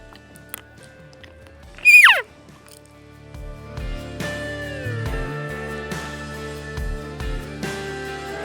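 A cow elk calls during an elk hunt in Wyoming, a single sharp high-pitched squealing call rising and falling, followed by softer ambient sounds with faint clicks and knocks.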